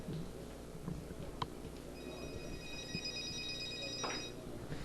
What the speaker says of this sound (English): People should turn off their cell phones